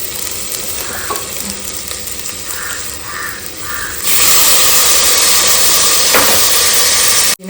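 Garlic paste and mint leaves sautéing in a pan for white brinji, a loud close sizzle with stirring scrapes and clicks that swells sharply halfway through and continues steadily until it cuts off abruptly, without speech.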